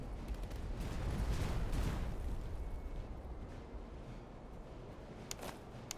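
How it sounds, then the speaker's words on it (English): Cannon fire and battlefield din in the Napoleonic-style strategy game Master of Command, a dense rumbling barrage swelling early then easing, with a couple of sharper distant reports near the end and no talk. "And the cannons are already shooting."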